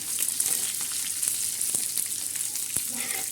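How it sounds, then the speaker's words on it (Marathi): Onion, coriander seeds and whole spices roast in a pan for black masala, giving a continuous close sizzle with light crackles and occasional stirring sounds. "आपला कांदा बी कडाने भाजत आहे आणि धने आणि खडा मसाला बी भाजत आहे"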